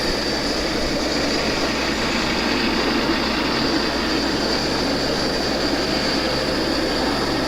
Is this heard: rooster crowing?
no